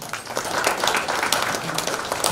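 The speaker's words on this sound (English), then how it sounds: "by clapping your hands." An audience at a chemistry conference applauds a professor, with sustained, fairly loud clapping from a medium-sized crowd that continues evenly for the whole stretch.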